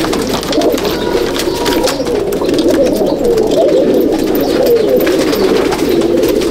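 Pigeons coo in a loft in Howrah, a dense, continuous murmur of overlapping low calls from many birds, loud and close throughout with no talk.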